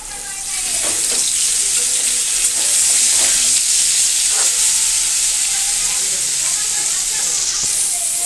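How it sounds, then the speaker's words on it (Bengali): Spiny gourd slices fry in a pan in a home kitchen, giving a steady loud sizzle with faint scraping and clinks now and then, and a voice speaks briefly over it. "আর কাঁকরোল ভাজা হচ্ছে।"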